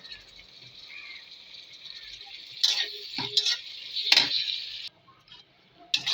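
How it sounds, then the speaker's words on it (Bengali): Steady hiss of dried fish sizzling in hot oil, with a few sharp clatters of a utensil stirring in the pan. "এখন আমি শুটকিগুলো তেলের ভিতরে ভালো করে ভাজা নিব।"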